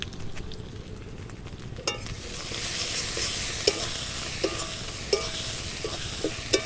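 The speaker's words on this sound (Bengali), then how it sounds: "ভালো করে নাড়াচাড়া করে নেব।" Chicken curry with turmeric and chili powder being stirred in a pan, a steady sizzle and frying hiss with regular sharp spoon clicks against the metal, close and clear.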